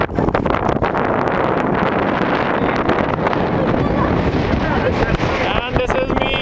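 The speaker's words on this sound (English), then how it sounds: "It's very windy." Strong wind buffeting the microphone on Mount Donner Peak, a loud continuous roar with gusty rumbling throughout, and a voice briefly audible near the end.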